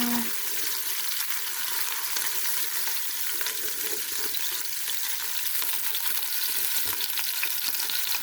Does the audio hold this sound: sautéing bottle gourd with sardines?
yes